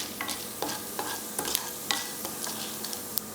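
Cumin seeds and lentils frying on low flame in a pan: a soft sizzle under irregular sharp pops and crackles, close by, with no one speaking.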